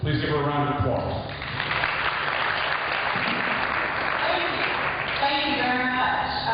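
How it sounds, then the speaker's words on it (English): An audience at an educators' forum on Common Core in Tulsa applauds in a steady burst of clapping that overlaps with speech at the start and the end. "Please give her a round of applause."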